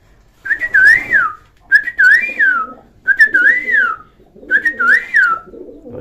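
A male pigeon at a pigeon farm coos in four close, loud, rising-and-falling phrases, each separated by a short pause.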